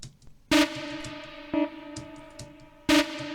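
Gritty, distorted synth stabs from two slightly detuned sawtooth waves through amp distortion, thick buzzy tone, three sharp loud hits with sustained harmonic drone between them, no voices.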